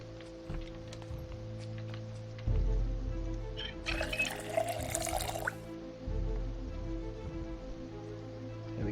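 Water being collected in the Project Zomboid video game, a soft pouring splash lasting about two seconds over a low game backdrop.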